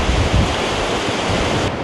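Strong wind buffets a bridge over Clear Creek in a canyon, a constant loud roar with rumbling gusts filling the sound, and no voices.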